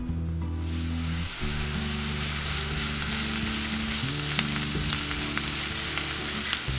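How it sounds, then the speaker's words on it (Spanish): Finely chopped onion fries in a splash of oil in a skillet, giving a strong, steady sizzle with faint crackles, over low music. "en un sartén agregamos un chorrito de aceite y una cebolla cortada bien pequeñita"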